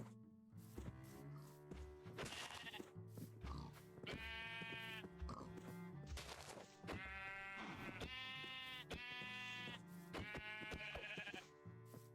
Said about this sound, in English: So that I'm not just kind of beating this sheep with the raw flesh of another member of its own species.